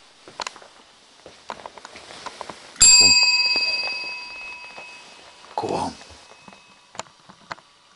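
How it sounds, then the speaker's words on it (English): A single bell ring in a quiet old inn during an overnight paranormal investigation, a sharp bright strike with a long ringing decay, surrounded by faint footsteps, small knocks and a brief muffled sound. "I would love you to ring this bell."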